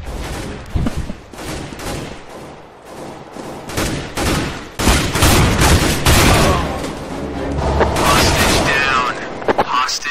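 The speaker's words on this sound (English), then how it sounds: "Grenade!" Grenade blast and gunfire in the video game Counter-Strike GO, with a run of loud sharp shots and booming bursts and a sustained rumble, mixed with players talking.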